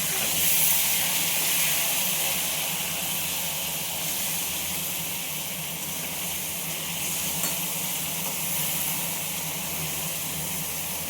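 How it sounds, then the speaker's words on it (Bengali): Sliced pointed gourd (potol) fries in hot oil with a loud, continuous, even sizzle that holds steady throughout, with no voices over it. "পটলটা এবার নেড়ে চেড়ে একটু ভেজে নিই।"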